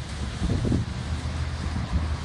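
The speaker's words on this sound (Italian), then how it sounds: "che vento" Wind gusting outdoors on a cold, wet, rainy day, a steady low rumbling roar with a swelling gust, close to the microphone.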